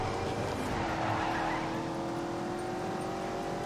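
Car engine droning steadily in The Grand Tour racing game, a continuous mid-level hum with a faint tyre hiss as the driver dabs the brakes, no talk over it.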